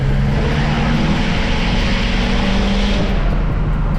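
Tuned and deleted Ford F350 pickup truck flooring it from low speed, with a loud, continuous roaring engine and exhaust drone and steady wind noise, close and unbroken throughout.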